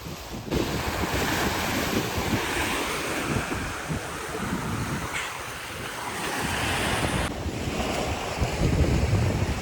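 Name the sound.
waves on a small beach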